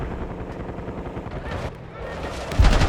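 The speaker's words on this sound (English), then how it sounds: "We've got gunfire to the right." Gunfire during a desert firefight over dunes in the Black Ops 6 campaign, with dense overlapping shots and rumbling game sound throughout and a louder burst near the end.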